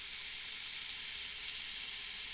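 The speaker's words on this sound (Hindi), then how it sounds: "finally this is chopped and now I am frying" Chopped food fries in a pan with a steady, close, even sizzle that runs unbroken throughout, with no talk.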